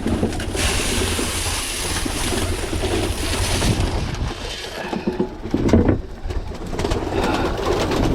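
Birmingham Roller pigeons cooing outdoors at feeding in midwinter, with steady wind buffeting the microphone, soft low coos mixed into a rushing, noisy background.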